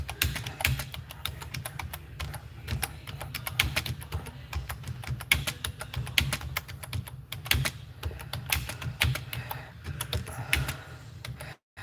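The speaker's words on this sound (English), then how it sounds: "I'm kind of quiet right now because I'm typing" Rapid, irregular clatter of keys typed on a computer keyboard, close and steady throughout over a low background hum, with no speech.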